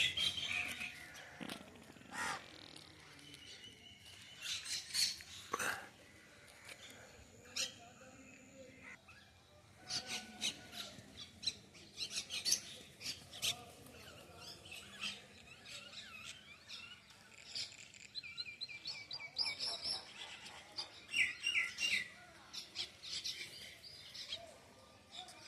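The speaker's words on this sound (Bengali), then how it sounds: "শালিক পাখি, কাক সবই আছে।" Common mynas and crows calling on a morning street near a bus stand where autos park, with scattered chirps and squawks at varied distances, fairly faint amid outdoor background noise.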